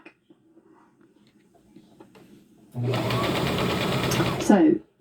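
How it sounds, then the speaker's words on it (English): Sewing machine stitching a bucket hat brim to its band, starting after a quiet stretch of faint background noise, then running steadily and loudly for about two seconds before stopping abruptly. "So I'm now going to go round and stitch that in place"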